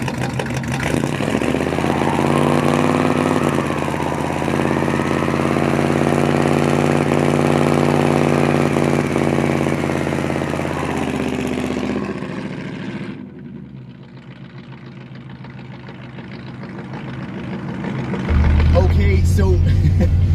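A car held on a line lock does a burnout. The engine roars at sustained high revs with tire squeal for about twelve seconds, drops to a lower idle, then revs again near the end.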